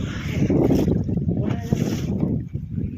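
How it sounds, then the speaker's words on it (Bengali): Water sloshes and slaps against a fishing boat hull on a river in the Sundarbans under steady north wind noise, a continuous rough wash close to the microphone. "আর ঢেউ কিন্তু ভালোই হচ্ছে, উত্তরে হাওয়া"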